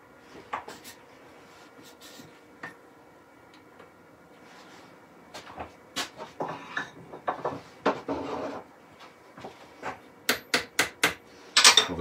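Wooden dowel fitted into a wood-turned German-style smoker: a run of sharp wooden taps and knocks, sparse at first then quicker and louder toward the end, close and without speech.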